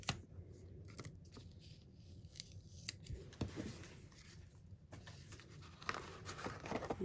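Scissors cut through material at a craft table, giving soft, close snips and rustles with a faint, quiet background and no talking.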